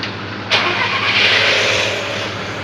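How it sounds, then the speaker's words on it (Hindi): A Volkswagen car engine cranks and catches with a sudden loud onset, then settles into a steady, close idle roar that holds to the end. "तो let us start the car."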